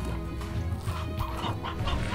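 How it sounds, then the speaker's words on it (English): Chickens clucking in the video game Slime Rancher, a steady run of repeated clucks and squawks against a constant background of game music and ambience, with no talking. "I'm hearing more chickens."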